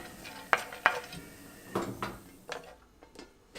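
Pine nuts are stirred in a pan while toasting, with a few sharp clinks of utensil against metal, scattered scraping and faint sizzling, spaced irregularly and fairly quiet.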